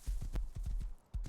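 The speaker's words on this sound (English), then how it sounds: "I got on my horse, on a new horse" Hooves of a horse in the Rust video game clip-clop in a quick, uneven run of close, dull thuds, about a dozen strikes with a brief pause near the end before more steps resume.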